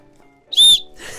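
One short, shrill blast from a small whistle built into a backpack's buckle, loud and close, with brief quiet before and after.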